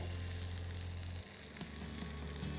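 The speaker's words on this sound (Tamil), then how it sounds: "இந்த ஒரு கன்சிஸ்டன்சிக்கு குக் ஆகும்போது தாங்க எனக்கு பயங்கரமாக பிடிக்கும்." Chicken chukka masala fries in a pan with curry leaves, giving a soft, continuous sizzle over a low hum, with a few light clinks and stirs near the end.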